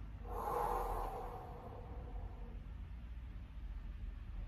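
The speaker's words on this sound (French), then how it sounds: "On prend la respiration et on souffle." A deep breath blown out during a seated office stretching routine, a breathy exhale swelling in the first second and then fading into a steady low room rumble.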